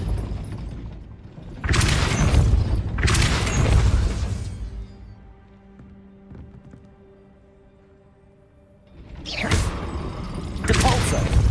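Depulso spell casts in Hogwarts Legacy, two loud bursts of magical whoosh and impact near the start, then a quiet stretch of low mechanical hum before two more bursts at the end.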